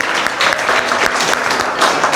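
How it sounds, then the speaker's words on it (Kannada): Loud, dense applause for Gangaraj fills a capacity-building workshop on waste sorting. A steady wash of many hands clapping stays close and sustained throughout. "ಗಂಗರಾಜ್ ಅವ್ರಿಗೆ ಚಪ್ಪಾಳೆ ಪ್ಲೀಸ್ ಜೋರಾಗಿ"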